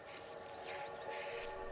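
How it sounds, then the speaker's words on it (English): A train passes with a steady rumbling roar and a sustained horn or whistle blast, heard alone in an old-fashioned railway station setting. "There's your train. You better run for it."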